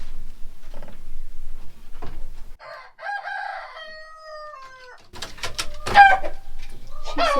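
Hens on a homestead cluck and crow in short bursts, close and fairly loud, with a rooster-like crowing phrase in the middle and a busier run of squawky calls near the end.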